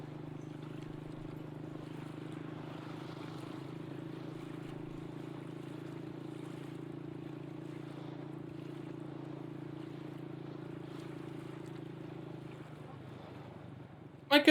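A boat travelling up a river beside the Saitama railway gives a steady, quiet motor drone with faint water and wind noise, holding evenly before a sudden brief noise at the very end.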